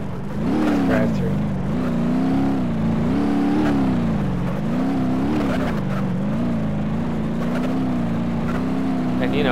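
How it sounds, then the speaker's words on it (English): Car driven in the BeamNG.drive sandbox simulator, a steady loud engine drone that rises and falls in pitch with throttle changes throughout, close and continuous. "You can drive anywhere the car is physically capable of driving."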